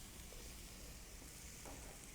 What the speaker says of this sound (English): You hear sizzle when you put that meat down?